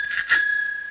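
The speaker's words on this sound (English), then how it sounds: "you want to use your bike bell to tell them you're coming through" A bicycle bell rings once, bright and close, its clear metallic tone hanging briefly before cutting off.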